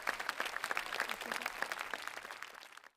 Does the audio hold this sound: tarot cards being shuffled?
no